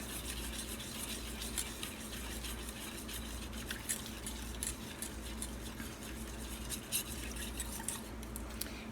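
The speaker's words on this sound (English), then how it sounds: "Just stir it till it dissolves." Gelatin being stirred into liquid until it dissolves, a soft continuous swishing and light clinking of a spoon, faint and steady with no voices.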